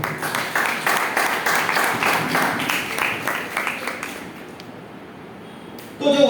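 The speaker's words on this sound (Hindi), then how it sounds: "तालियां बजाओ।" An audience claps together at a church gathering, a dense, steady patter of many hands for about four seconds before it thins out and fades, with a brief sound at the very end.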